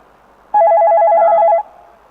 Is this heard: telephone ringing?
yes